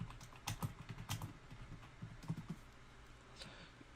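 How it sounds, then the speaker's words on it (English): Quick, light keystrokes on a computer keyboard typing a search into a browser search bar, clicking in short irregular bursts that thin out and stop toward the end, close and quiet with no talking. "in the search bar here, you need to type in download Windows 10 ISO"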